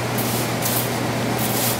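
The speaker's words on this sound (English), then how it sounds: "Spray down our hands with alcohol to kill bacteria." Alcohol sprayed onto gloved hands at a sterile lab bench in front of a HEPA filter, a steady close hiss lasting under two seconds over a constant low hum from the filter unit.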